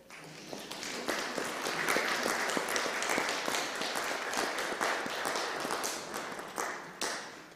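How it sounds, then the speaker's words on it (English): An audience in a Christmas service applauds steadily after a choir sings, a dense wash of clapping that builds, holds for several seconds and tapers off. "Now you can applaud."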